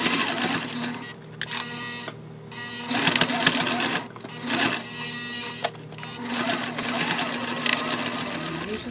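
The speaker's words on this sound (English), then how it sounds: "We're gonna sew right down here at, like I said, 3/8, 1/2 inch, all the way down on both sides" A sewing machine stitches bag panels in bursts of rapid mechanical whirring, pausing briefly between runs, with a voice talking over the stitching.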